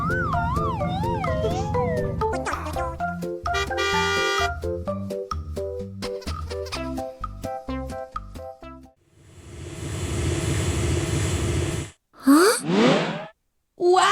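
Cartoon police car siren in a kids' show, a wailing rising-and-falling tone at the start amid bouncy music and sound effects, with further bursts of noise later.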